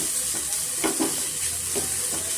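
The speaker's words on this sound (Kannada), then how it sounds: "ಈಗ ನಾವು ಕ್ಯಾರೆಟ್ನ ಸ್ವಲ್ಪ ಚೆನ್ನಾಗಿ ಹುರ್ಕೊಬೇಕಾಗ್ತದೆ ತುಪ್ಪದಲ್ಲಿ ಸ್ವಲ್ಪ ಚೆನ್ನಾಗಿ ನಾವು ಫ್ರೈ ಮಾಡ್ಕೊಳ್ಳೋಣ" Grated carrots frying in ghee over medium flame for a carrot bread custard dessert, a steady close sizzle with a few soft stirring scrapes through the pan.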